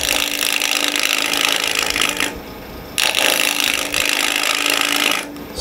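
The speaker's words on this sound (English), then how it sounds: "I'm going to take the Easywood tool again, bring up the speed, and I'm going to work on my tenon on this end right here" Easywood carbide tool cutting a tenon on spinning wood on a lathe, a bright scraping hiss in two long passes with short breaks between, close and loud with no speech.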